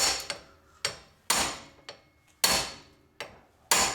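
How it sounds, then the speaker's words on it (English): A hammer repeatedly strikes a manual impact driver set on a car brake screw, seven sharp metallic blows, loud and close, with ringing decay and short pauses between hits. "When I hit this, it'll turn counterclockwise to get that screw out."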